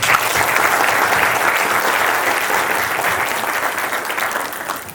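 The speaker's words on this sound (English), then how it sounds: "So I want to give a big round of applause to everybody here." Audience applauding volunteers at a community appreciation event, a dense sustained wash of clapping from a sizeable crowd that holds steady and tapers slightly at the end.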